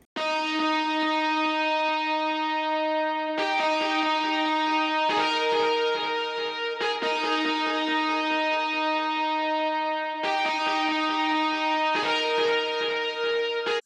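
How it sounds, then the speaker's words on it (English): A distorted electric guitar synth preset, Distorted Guitar 2, plays sustained notes in a slow sequence, each chord ringing bright and buzzy with heavy harmonics, no voices. "this is an electric guitar. It's the Distorted Guitar 2 preset, and I just have these notes playing"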